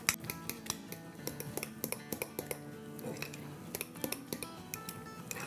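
Egg being mixed into cheese for a lasagna filling. A utensil scrapes and clinks in a bowl with quick, irregular strokes, close and fairly quiet.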